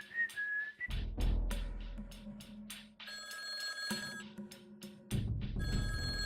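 A telephone rings insistently, its bright trilling tone repeating in steady bursts over a low rumbling background.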